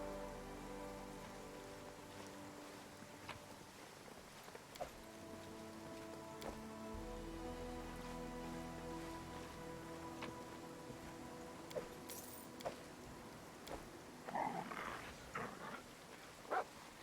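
Rainfall in the fantasy role-playing game Pathfinder: Kingmaker, a soft, constant patter of drops on the ground, quiet and even, with faint sustained musical tones and a few light taps throughout.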